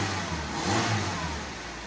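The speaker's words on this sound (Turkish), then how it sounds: "Gaz vereyim." A Honda HR-V engine with an oxygen sensor fault revs steadily, a close, loud mid-pitched drone that swells slightly as the throttle is pressed and then eases back, with no voices.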